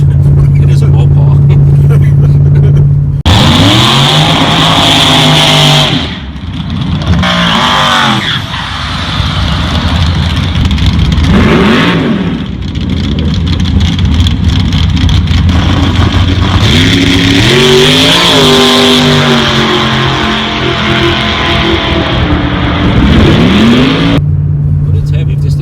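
Original Jeep SRT8 accelerating at full boost, a loud close engine roar with rising tones through gear changes and a whooshing intake, talk partly over it.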